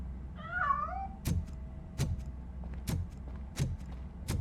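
A cat meows in a short wavering cry inside the video game RoboCop Rogue City, followed by four loud, evenly spaced thuds or impacts over a low steady background hum.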